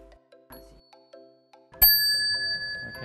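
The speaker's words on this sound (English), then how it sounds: "rang the bell as a signal for the novices to switch to the standing meditation" A bell is struck once during walking meditation at a monastery, ringing out clear and close with a long sustained tone over quiet footsteps and faint background sounds.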